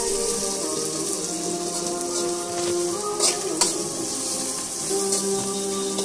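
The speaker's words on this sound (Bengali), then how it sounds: "হাফ টেবিল চামচ মরিচের গুঁড়ো ঢেলে নাড়তে থাকি।" Salt, turmeric and chili powder are stirred in a hot pan while cooking sea bream fish bhuna, producing a constant bright sizzle with a few clinks and scrapes of the spoon, close and without speech.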